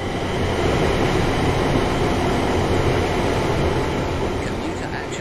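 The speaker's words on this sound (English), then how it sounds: "This train is a Class 350/1 electric multiple unit, manufactured between 2004 and 2014, and is part of the Desiro family." A Class 350/1 Desiro electric multiple unit running on the West Coast Main Line in Train Sim World, a steady rumbling roll of wheels on track with a faint high whine above it, with a voice talking over it.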